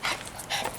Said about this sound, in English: Oh, she hears a dog. She's freaking out right now.